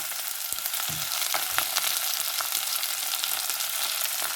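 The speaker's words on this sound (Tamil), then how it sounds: "வெங்காயம் உள்ளி எல்லாத்தையும் சேர்த்து போடுறேன் அதோட இதையும் போடுறேன் வதங்கி வரட்டும்" Onion and garlic sauté in hot oil for a tomato and potato curry, with a bright, continuous hiss and crackle up close and occasional soft knocks from stirring.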